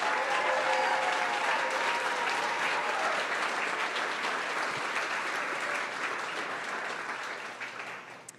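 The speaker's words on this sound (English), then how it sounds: "Let's do one more round of applause." A crowd at the CyStarters Summer 2024 demo day claps and cheers in a dense, steady wash of applause that stays strong for most of the stretch, then gradually thins and fades toward the end.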